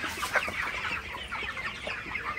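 Broiler chickens about 2.5 kg each cluck at moderate distance on a farm, a busy overlapping stream of short clucks and calls with no talk.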